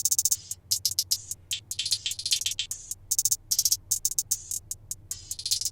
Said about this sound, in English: And then both hats together sounded something like this.